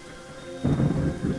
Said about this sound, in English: Much thunder and lightning.